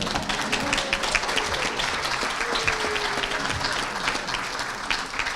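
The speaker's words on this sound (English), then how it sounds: "Yes, you can applaud" Sustained applause from a crowd at a union delegate assembly speech, steady clapping throughout with a few louder claps standing out.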